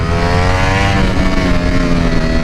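A 2021 Ducati V4R motorcycle engine revving hard under acceleration, a loud, close, continuous high-pitched howl with rising harmonics that climbs steadily in pitch without hitting the limiter.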